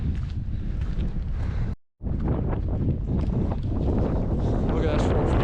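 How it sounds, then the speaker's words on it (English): Strong, cold wind buffets the microphone on an open Scottish hillside, a loud continuous rumbling roar broken by one brief dropout, with a voice faintly present beneath it. "the wind is so strong here, I'm almost leaning into the wind"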